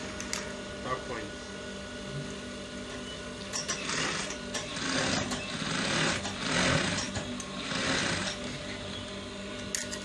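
A sewing machine top-stitches a trouser, its rapid mechanical rattle running continuously and close, swelling slightly in the middle as the stitching speeds up.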